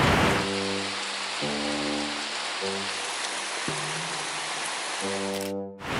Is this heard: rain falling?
yes